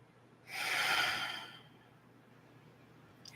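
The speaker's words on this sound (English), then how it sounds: "A few more breaths." A single slow, deep breath in a guided mindfulness relaxation, a soft airy rush that swells and fades over about a second, close and quiet with no talking.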